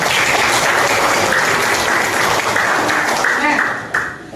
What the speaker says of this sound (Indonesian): Kasih tepuk tangan yang meriah betul.